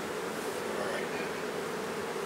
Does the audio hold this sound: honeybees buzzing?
yes